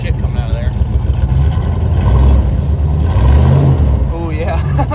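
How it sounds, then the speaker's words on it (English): A car engine, offered up for resale, rumbles and revs in a couple of swells close by, with people talking over the low, throaty motor. "Give it a rev or two"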